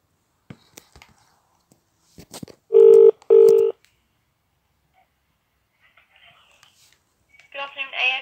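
A phone line rings with two long electronic tone bursts over quiet background, preceded by faint clicks and ending with a brief voice answering.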